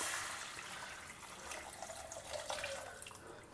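Water pours steadily into a cooking pan holding broken wheat for upma, a soft continuous splashing stream at low volume for a few seconds.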